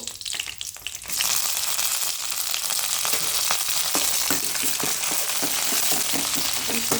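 Peanuts and curry leaves frying in hot oil in a pan, a steady loud crackling sizzle that jumps up after the first second as they hit the oil, with scattered pops throughout and no voices.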